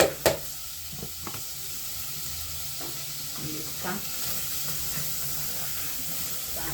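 Grated hoho green pepper stirred into a pan of softened onions, sizzling steadily with a bright frying hiss, broken by a few knocks and scrapes of the spoon against the pot.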